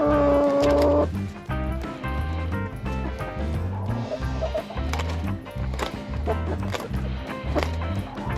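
Backyard chickens in Alaska clucking and pecking, with short scratchy pecks and soft clucks over a rhythmic background, close by and moderately loud, with a brief tone at the start.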